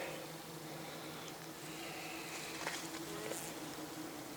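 Honeybees of a local breed drone steadily around the hives at an apiary, a soft continuous buzz with a few individual bees passing closer, no voices.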